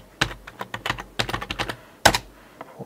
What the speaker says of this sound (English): So I'll type it again.